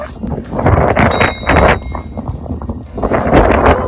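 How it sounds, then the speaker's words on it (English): Strong wind buffets the microphone in loud, roaring gusts that swell and ease, with a brief faint voice in the middle, on a snowy, sandy hike in Arches National Park. "Oh my gosh, it's so windy!"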